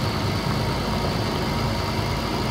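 A Swaraj 855 V8 tractor in Farming Simulator 19, tested with a plow, cultivator and heavy trailer, gives off a constant, close, heavy engine drone with no voices.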